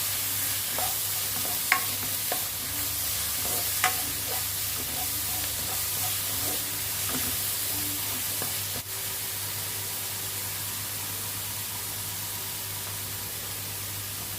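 Ingredients for a Kerala-style salmon curry sauté in a pan with a continuous soft sizzle and hiss, while a spoon stirs and scrapes with occasional sharp clinks against the pan near the start.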